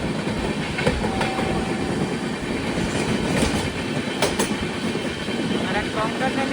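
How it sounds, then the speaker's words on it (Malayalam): An express train overtakes on the Konkan Railway during the monsoon, its wheels clattering loudly and rhythmically close by in a continuous rumbling pass with no break. "ഒരു ട്രെയിൻ ഓവർടേക്ക് ചെയ്യാണ്"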